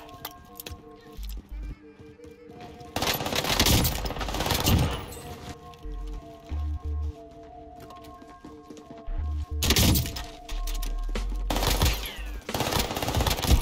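SMG gunfire in Call of Duty Warzone on the Caldera map, rapid bursts of automatic fire in several loud clusters separated by quieter game ambience, with no talk.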